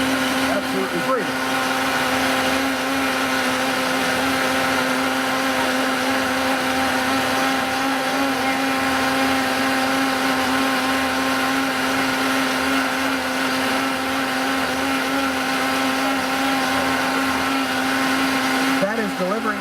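Vitamix blender motor running continuously at high speed, a loud steady whine with a strong hum, unbroken for the whole stretch.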